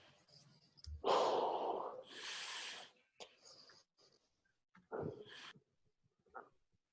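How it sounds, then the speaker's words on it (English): A student breathing loudly into a microphone during an online geometry class: heavy, noisy breaths and snort-like exhalations in several bursts, close and harsh. "you're breathing kind of loud"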